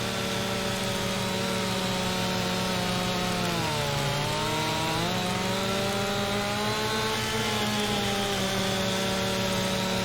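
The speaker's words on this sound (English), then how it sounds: "Chainsaw on the tree. Get down as low as we can and chop it up." A chainsaw cuts a tree in Farming Simulator 25, a loud, steady engine drone with layered harmonic whine that dips in pitch midway as it bogs into the wood, then holds for the full stretch without speech.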